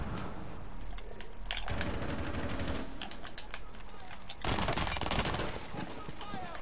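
Rapid gunfire rattles through a team round of a shooting video game, dense volleys of sharp shots at close range. The firing turns brighter and harsher near the end.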